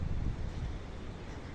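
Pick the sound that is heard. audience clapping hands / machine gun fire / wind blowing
wind blowing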